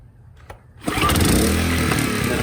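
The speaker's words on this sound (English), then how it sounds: "Let's go ahead and start it back up and give it another shot." A Sportsman 1000 watt inverter generator's small engine is pulled to start with the choke on, catching after a brief quiet moment and then running loud and steady at close range.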